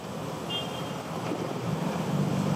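A Caterpillar CAT 140G motor grader grading a dirt road for dump trucks gives a steady, close diesel rumble, mixed with rough wind noise throughout.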